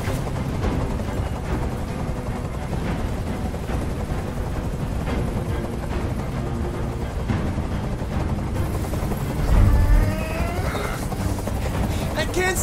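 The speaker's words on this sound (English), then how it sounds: "I can't stand that noise anymore! Tell that helicopter to get out of here!" Helicopter rotor drone in a tense hostage standoff scene from the video game Detroit: Become Human, a loud continuous low rumble running throughout amid gunfire-like bursts and a heavy thump near the end.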